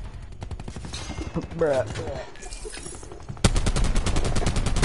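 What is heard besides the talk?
gunfire in Black Ops 4 video game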